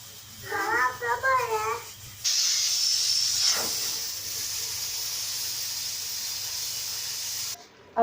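A pressure cooker whistle releasing steam while black chickpeas cook at home: a loud, sustained hiss that runs for several seconds and then cuts off abruptly, after someone speaks briefly at the start.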